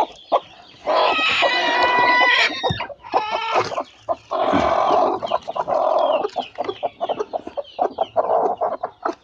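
A brooding hen sitting on a clutch of eggs clucks loudly and close, in repeated harsh bursts with brief pauses, and a rooster-like crowing call rises among them; no voices.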